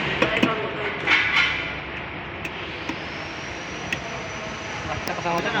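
A Komatsu WA350-1 wheel loader's engine runs steadily under maintenance, a broad continuous roar with a high whine and occasional metallic clinks, fairly close.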